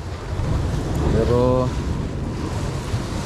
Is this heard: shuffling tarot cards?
no